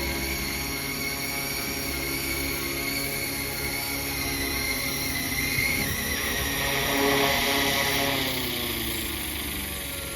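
A FlishRC FL500 EC135 RC helicopter flies with a steady, loud whining rotor and motor drone throughout, its pitch shifting slightly as it maneuvers, with no talk.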